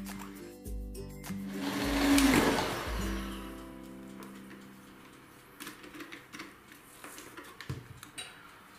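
An electric mixer whirs through peach pie batter after milk is added, swelling loud for a few seconds then easing off, followed by softer clattering and knocks near the end.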